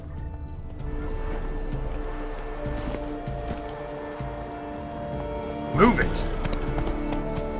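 Hoofbeats of a horse in The Witcher 3: Blood and Wine clop along at a steady pace beneath continuous game music and ambience, with characters talking over it.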